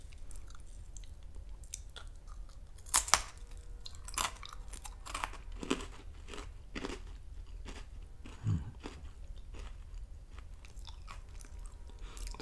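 Whole Grain Wheat Thins crackers being bitten and chewed up close, with a few sharp crisp bites followed by steady, quieter crunching and munching over a soft, silent background.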